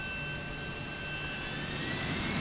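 A hybrid plane-helicopter aircraft in the Deus Ex game flying away, heard as a steady, even jet-engine drone that holds at a fairly loud level throughout, with no speech.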